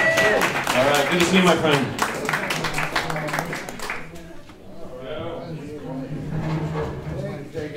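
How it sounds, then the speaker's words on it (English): A crowd applauds and cheers as comedian Joaquin Luna walks on stage. The dense clapping is loudest at first and fades out, while a man greets him over it. "All right, everybody give a hand to Joaquin."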